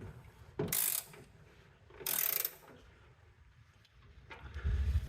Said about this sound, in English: Next, I'll tighten these bolts that go into the welded nut on the bracket on the bumper.